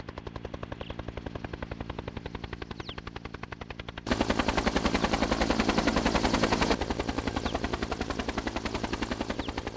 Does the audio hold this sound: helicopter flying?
yes